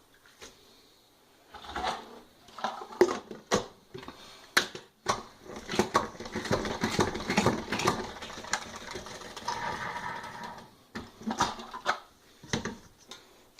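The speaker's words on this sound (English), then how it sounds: "we just put the cabbage in the salad spinner to dry it all off" A salad spinner dries cabbage for kimchi, with rapid clattering spins, plastic knocks and rattles in uneven bursts across the span, fairly quiet and close, with no talk.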